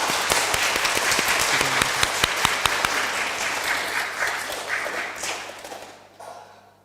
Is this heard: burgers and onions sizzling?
no